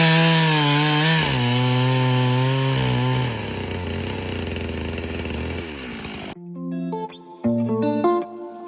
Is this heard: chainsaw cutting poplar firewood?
yes